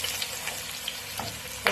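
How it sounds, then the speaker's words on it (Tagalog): Beef sautéing in a pan with onions for bulalo, a steady close sizzle and crackle throughout with a few louder pops and a stir near the end. "Igisan muna natin ng yung beef, igisa muna natin ng konti para mawala yung amoy niya"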